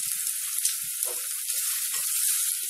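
Urad dal sizzles and fries in hot oil with onions, a steady close hiss with a few faint crackles, no talking.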